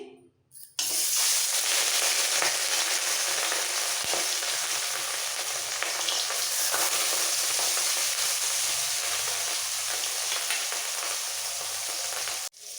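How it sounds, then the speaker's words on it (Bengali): Marinated katla fish belly pieces hit hot mustard oil with an abrupt loud sizzle that holds as a steady, dense, close frying hiss for over ten seconds before cutting off. "তেল খুব ভালোভাবে গরম হয়ে গেছে এবারে মেখে রাখা মাছগুলো ছেড়ে দিচ্ছি"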